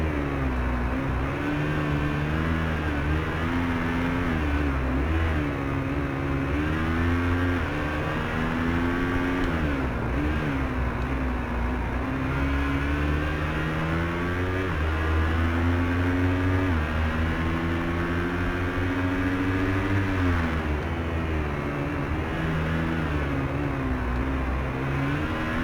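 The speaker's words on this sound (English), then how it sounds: "these bikes don't sound very good in comparison to what an actual 450 sounds like" A supermoto motorcycle engine in the Ride 2 racing game drones loudly and continuously, its pitch rising and falling with repeated revving and gear changes, with no one speaking.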